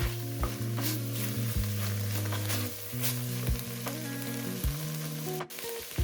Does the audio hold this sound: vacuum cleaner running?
no